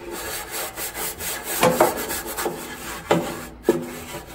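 Nylon scrubber rubbing over a Weber Genesis II grill, a steady close scraping with several sharper strokes near the middle and end, no talk.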